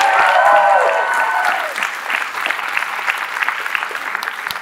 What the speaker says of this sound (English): give another round of applause for Maya